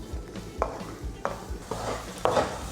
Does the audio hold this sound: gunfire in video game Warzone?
no